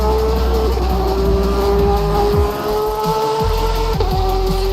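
A Porsche race car in Assetto Corsa at Mosport Grand Prix drones loudly and steadily near the listener, with a brief dip and rough scrub as the tyres lock up under braking, then the engine carries on.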